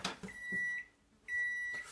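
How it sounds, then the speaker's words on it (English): Microwave oven drying a roughed pear wood bowl, a faint hum with two sustained electronic beeps, short and quiet in a workshop setting. "It's very unlikely, but you don't want to ruin your microwave."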